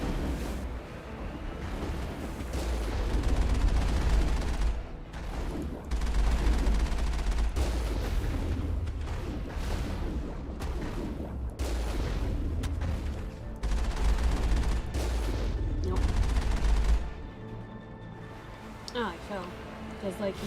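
Mass Effect gunfire during the Virmire mission comes in repeated loud bursts of shots with heavy low thumps, with a voice talking over the combat.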